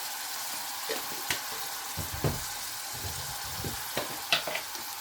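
Spices sizzle gently in a pan as they are sautéed for an eel curry, with a soft steady fry broken by scattered clinks and scrapes of a stirring spoon, fairly quiet and without talk.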